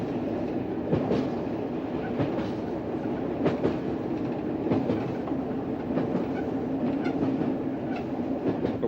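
A train rolls steadily along a Cornwall branch line approaching Carbis Bay Station, its wheels clicking over rail joints at irregular intervals beneath a constant low rumble.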